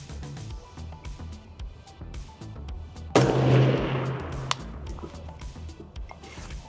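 A pistol fires at 15 yards while a red dot sight is being zeroed. One loud, close report rings out with a long reverberant tail, followed by a smaller sharp crack about a second later over low background rumble.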